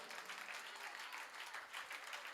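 An audience at a Hindi kavi sammelan poetry gathering in Lalitpur claps steadily, a dense continuous wash of applause heard from a distance without pause.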